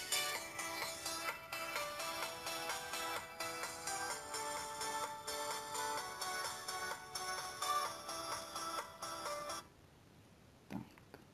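A Feiteng H9500 phone plays its ringtone at maximum volume, a bright repeating electronic melody in pulsing phrases for about nine seconds before cutting off to near silence with a faint click.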